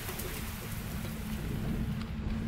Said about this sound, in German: Die kurzen, starken Regengüsse bringen zwar schnelle Abkühlung